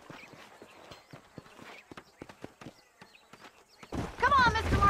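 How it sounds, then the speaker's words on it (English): Horse hooves clip-clop steadily at a walk in Red Dead Redemption, a run of sharp, evenly spaced knocks close by, mixed with game speech and followed by a louder burst of noise at the end. "These are fine horses."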